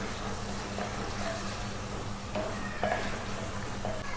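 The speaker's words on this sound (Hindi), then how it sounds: "ये फ्राई हो रहा है" Mutton with ground coriander fries in a clay pot handi, giving a steady low sizzle with faint stirring scrapes and clinks throughout.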